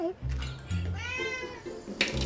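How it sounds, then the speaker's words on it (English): A house cat meows a few times, short close calls including one drawn-out rising-and-falling meow, with faint clinks and background noise around it. "Scientists have found cats make a huge range of meows."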